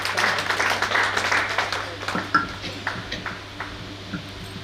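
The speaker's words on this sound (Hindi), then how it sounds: "जोरदार तालियां पुष्पा जी के लिए" Applause from a small audience at a poetry reading, moderately loud clapping at first that gradually thins into scattered, separate claps tapering off, with a steady low hum underneath.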